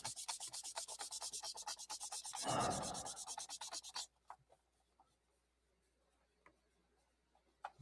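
Sandpaper worked by hand over a surface between grits before primer, a close, rhythmic rasping stroke for about four seconds that then stops, leaving near silence with a few faint taps.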